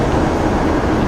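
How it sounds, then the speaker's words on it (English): Steady loud hiss and rumble from a Class 47 locomotive's air brakes in Train Simulator 2018, a brief broadband rush with no talk. "Air brake sounds."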